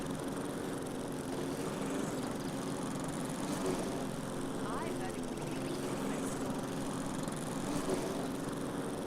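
A string trimmer in the logging game Lumberjack's Dynasty whines continuously, a buzzing motor drone held steady throughout, while someone talks over it.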